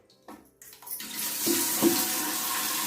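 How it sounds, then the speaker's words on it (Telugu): Water is poured into a plate in an idli steamer over a gas stove, starting with faint clatter and building into a steady, close splashing pour with no talk. "ప్లేట్ మునక నీళ్ళు పోసేసాము చూడండి."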